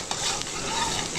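Garlic, onion and pancit ingredients sautéing in a restaurant kitchen pan, a close, steady sizzle with brief stirring knocks.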